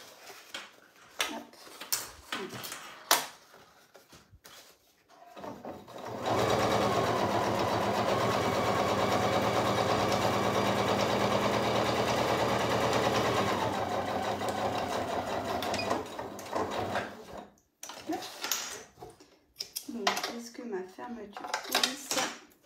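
A sewing machine stitches a backpack in a long continuous mechanical whir lasting about ten seconds, loud and close, with a voice talking before and after the run.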